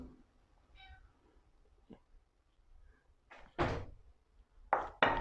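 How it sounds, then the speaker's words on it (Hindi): Cat meowing in a home kitchen where dahi bhalla is being made, a couple of brief faint meows followed by louder knocks and clatters nearby. "ये देखिए किचन में दही भल्लों की खुशी में बिल्ली भी आ चुकी है और म्याऊं म्याऊं कर रही है"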